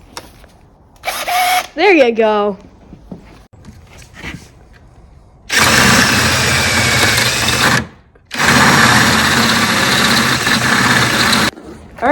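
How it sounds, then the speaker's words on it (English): A power drill bores out pop rivets on a 1995 Ski-Doo Formula 3 snowmobile in two loud, sustained bursts of whirring and grinding, close by, after a few short spoken words. "we'll have to drill out"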